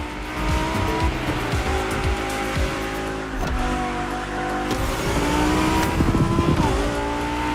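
Lamborghini and Ferrari supercars race in The Crew Motorfest, with loud, steady engine roar, gear-shift revving and repeated tire squeals and skids close by, no voices.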